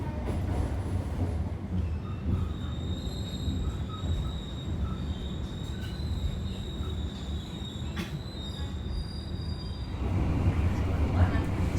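A passenger train on the Merak to Banyuwangi line rolls along the rails with a steady low rumble and faint high wheel squeal, heard from inside the carriage, growing louder near the end.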